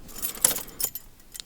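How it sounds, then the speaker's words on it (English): A car ignition key turned off, followed by a ring of keys jangling in short, bright bursts at close range with brief pauses between shakes; no talk. "you turn the ignition off"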